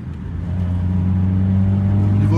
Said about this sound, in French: tout le son qu'on entend vient du moteur et non pas de l'échappement